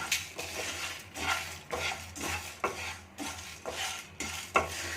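Garam masala spices roasting in a pan over medium flame, stirred in repeated sweeping strokes that scrape and rustle about once a second, close and fairly quiet with faint sizzle beneath.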